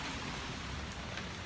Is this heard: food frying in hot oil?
no